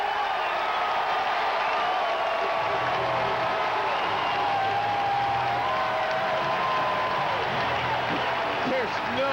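A Cleveland Browns home stadium crowd roars and applauds steadily after a fair catch on a 2007 punt return, a loud, continuous wash of cheering with an announcer talking underneath.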